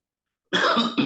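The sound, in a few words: cough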